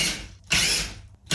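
A drill fitted with a paddle bit bores through drywall in short, whining bursts with grinding, rattling cutting noise, close and loud, stopping briefly between pulses.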